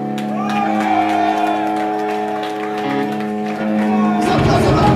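A crowd at a thrash metal concert cheering and shouting, with long sustained voiced whoops layered over a noisy wash of applause that swells near the end; loud and close throughout.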